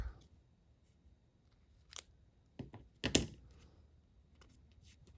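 Scissors snip through white craft foam in a few quiet, separate cuts, with a sharper cluster of clicks near the end and faint handling in between.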